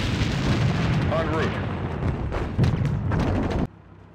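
Gunfire and artillery blasts from the WWII strategy game Sudden Strike 2, a dense loud barrage of booms and shots lasting several seconds with a voice calling out over it, then cutting off abruptly.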